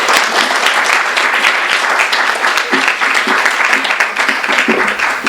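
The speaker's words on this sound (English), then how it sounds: "Let's please give them a warm round of applause." A crowd at an Independent Bookstore Day literary event breaks into loud, sustained applause, dense overlapping claps filling the room evenly throughout.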